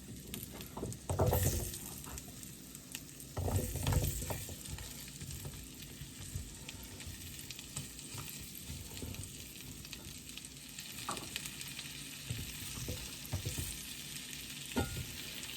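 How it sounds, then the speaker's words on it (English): Carrots sizzling in butter in a skillet on low heat for Southern-style brown sugar candied carrots, a soft continuous fry broken by louder bursts of stirring and clatter, with no voices. "I'm going to add in all of my carrots"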